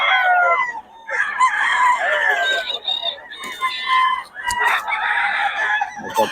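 Gamecock roosters crowing in repeated loud, close bursts that overlap and follow each other almost continuously, with some clucking between calls.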